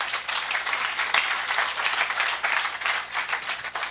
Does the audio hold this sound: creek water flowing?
no